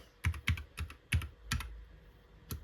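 A handful of crisp keystrokes on a computer keyboard tap out in short clusters, close and fairly quiet, with no voices.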